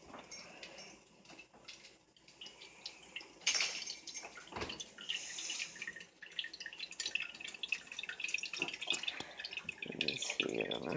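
Drinking water trickles and drips steadily through a filter into a container, with faint clinks and handling noises throughout; no one speaks.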